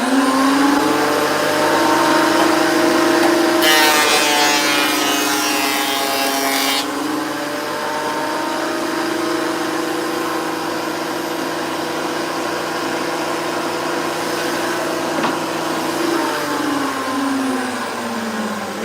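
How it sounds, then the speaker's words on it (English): An electric planer works maple wood in a continuous loud, close whine, its pitch dipping and rising as the blade bites through each pass, with a brief burst of rougher cutting noise partway through and no talk. "We'll just finish off this set of planing now, and we'll set the depth again."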